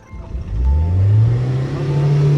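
A car accelerating nearby, its engine note rising and holding in a loud, steady drone as it gathers speed.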